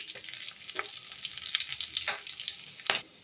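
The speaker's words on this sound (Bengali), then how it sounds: "এবার ফোড়নটা দিয়ে দেবো তেলে" Whole spices and asafoetida crackle in hot oil with soft, irregular sizzling pops, several sharper spits standing out, close and fairly quiet with no talking.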